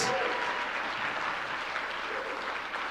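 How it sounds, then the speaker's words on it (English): Steady, dense applause from a large audience at a charity gala, filling the room evenly and continuously without a break. "So a huge round of applause."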